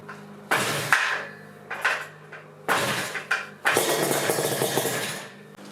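A 1970s Yamaha RD350 two-stroke motorcycle engine is cranked in several short bursts. It catches into a ragged, crackling run near the end, close and fairly loud.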